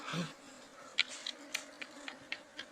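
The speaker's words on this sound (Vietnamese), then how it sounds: "Ong đấy." Wild dwarf honey bees buzzing outdoors during a forest hive hunt: a faint, steady insect hum with scattered sharper buzzes passing close by, no talk over it.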